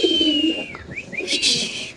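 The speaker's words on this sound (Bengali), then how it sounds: "এখানে আছে এক জোড়া রেসার কবুতরের রেসারের বাচ্চা ভাই" A young pair of racing pigeons held in hand give soft cooing and whistling calls at close range, brief and unsteady, with little else around them.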